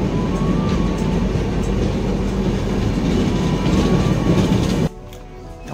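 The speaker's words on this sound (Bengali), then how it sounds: "আমাদের গাড়ি বিশাখাপত্তনমে ঢুকে পড়েছে।" A passenger train running on rails as it enters Visakhapatnam, with a loud, steady rumble and rhythmic wheel clatter heard close up, then an abrupt drop to a quieter interior hum near the end.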